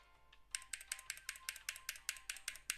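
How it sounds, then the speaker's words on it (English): Keys clatter on a Nuphy BH65 metal-bodied mechanical keyboard, a quick run of crisp, close clacks in uneven rhythm after a brief quiet start. "I like the sound of the keyboard."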